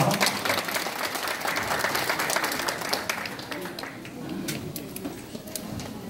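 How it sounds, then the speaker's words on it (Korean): A congregation at a Korean church installation and ordination ceremony applauds to welcome a pastor: dense, steady clapping fills the room, thinning toward the end with a few scattered claps and murmuring voices underneath. "박수로 맞아주시기 바랍니다"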